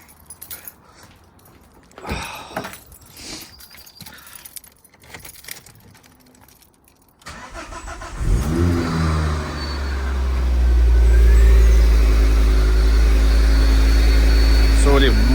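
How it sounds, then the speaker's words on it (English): Keys jingle and clatter, then a Ford Focus ST225 engine with an induction kit cranks and catches, settling into a loud idle before revving up with a rising turbo whistle. "I'm going to do everything up now and start the car"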